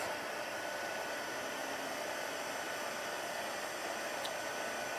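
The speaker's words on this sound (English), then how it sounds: "So we're heat embossing again with gold embossing powder on the Bumblebee cardstock." A heat tool blows in a steady, even whoosh while melting gold embossing powder on yellow cardstock, a constant close hiss with no pauses.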